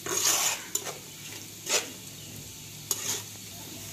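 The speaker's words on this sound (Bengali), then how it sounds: "প্রায় 5 মিনিট ধরে পেঁয়াজটা ভেজে নিচ্ছি, পেঁয়াজটা আমার লাল হয়ে গেছে" Onions with a spoon of sugar fry in a pan under a soft, continuous sizzle, broken by three or four brief bursts of stirring scrapes, with no voices.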